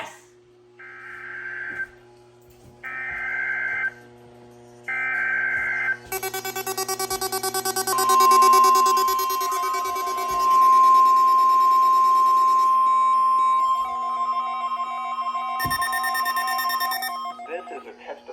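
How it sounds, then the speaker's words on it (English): NOAA Weather Radio weekly test alarm: three short bursts of warbling data tones, then a long, loud, steady alarm tone that runs for several seconds over hissy radio static, with a few brief tone changes near the end. "This is a test of the National Weather Service NOAA Weather Radio Warning Alarm System."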